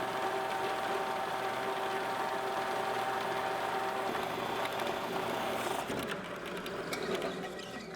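A bandsaw squares up the end of a length of metal tubing, a steady dense mechanical whine with a harsh grinding edge that holds loud and constant before easing slightly near the end.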